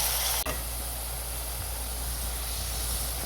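Onion, tomato and dried red chillies sizzle in oil with popped mustard seeds for a Kongu-style thattapayaru rice, a steady close hiss with one sharp knock near the start.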